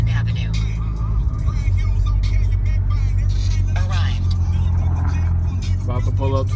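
City car traffic rumbles steadily on West Grand Avenue in Chicago, with engines droning low and continuous and passing vehicles, heard from inside a car as a person talks over it.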